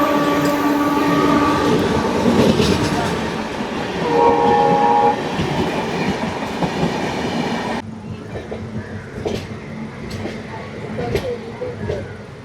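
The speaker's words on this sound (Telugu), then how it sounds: "హౌరా మెయిల్ అనుకుంటా, 4 గంటల లేటు." An Indian express train, the Howrah Mail, passes loudly and close with steady rolling rumble and wheel clatter, its horn sounding in long tones near the start and again mid-pass before the noise thins to clicking wheels.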